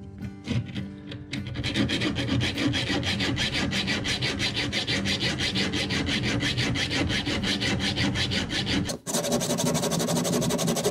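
Hand saw cutting through wood during an RV remodel, a fast steady rhythm of close, loud rasping strokes that runs almost without a break.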